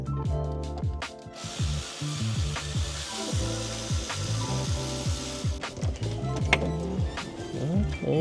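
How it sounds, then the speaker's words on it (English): A long 14 mm Snap-on wrench ratchets on a bolt of a 2005 Honda Accord, a close run of rapid clicking strokes repeated steadily, with some background noise. "All you're gonna need is just a longer than normal 14 wrench."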